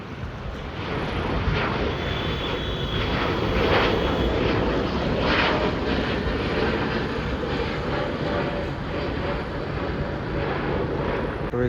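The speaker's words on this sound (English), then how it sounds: "That's the 787-8 of Air India. This time it's departing and going to Bengaluru." An Air India Boeing 787-8 departs from Delhi Airport with a loud, steady jet roar that swells slightly in the middle and stays broad and continuous, with no talk.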